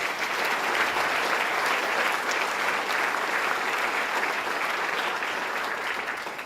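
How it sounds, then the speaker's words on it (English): Guests at a New York State wine event applaud, a full, continuous patter of many hands clapping at even loudness that fades a little near the end, with no speech over it. "Let's give them a round of applause."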